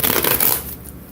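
Deck of cards being shuffled close up, a quick burst of riffling flutters that then fades into near quiet.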